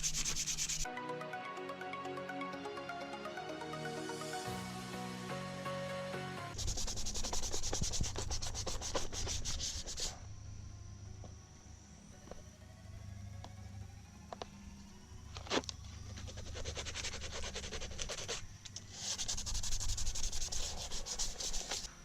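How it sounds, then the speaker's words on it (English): Fine sandpaper smooths scratched plastic panels on a Yamaha Raptor ATV by hand, close rhythmic rasping strokes in bursts separated by brief pauses and quieter stretches. "I'm gonna go back over it with this thinner sandpaper here"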